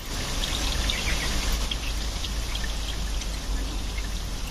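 Engine coolant draining out of the cooling circuit of a Peugeot 308 CC with a 1.6 THP engine, a steady close pouring trickle of liquid that runs without a break, with no voices.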